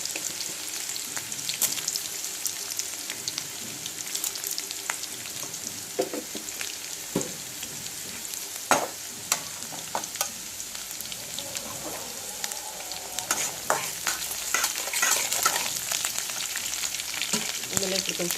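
Onions fry in a pan with a constant close sizzle and crackle, broken by scraping and clinking as they are stirred, with no talking.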